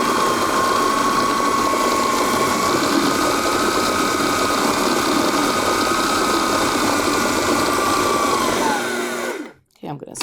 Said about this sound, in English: Just keep on blending until you don't have the lumps in it anymore.